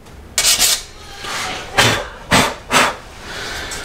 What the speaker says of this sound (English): I actually went ahead and done it with 180 grit sandpaper.